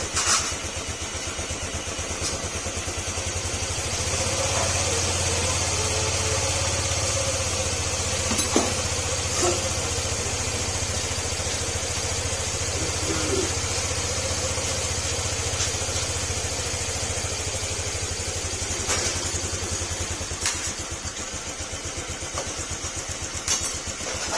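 A Honda Click scooter engine warming up at idle during an overhaul job, a steady, close, continuous low hum that holds unchanged with no voices over it.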